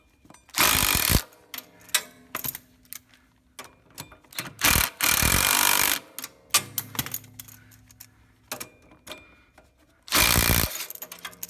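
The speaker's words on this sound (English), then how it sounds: "screw those in, and those should force that bearing out" Several separate bursts of a ratchet or power tool tightening bolts to press a tapered bearing off a pulley on a Scag Turf Tiger hydro pump, with metallic clicks and handling noises in the pauses between.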